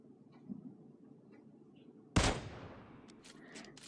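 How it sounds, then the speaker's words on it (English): A single rifle shot fired at a distant enemy in PUBG Mobile cracks out loudly and decays in a long echoing tail, after a quiet stretch of low background ambience. "I'll start taking shots at him"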